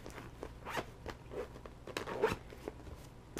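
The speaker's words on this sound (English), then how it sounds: "and you just zip it back up." A zipper closes around a box holding a Pokémon 20th Anniversary Pikachu plush in a series of short, quiet rasping pulls and scratchy bursts at close range.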